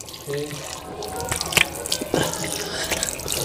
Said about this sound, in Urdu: ہاتھ میں پانی ڈالنا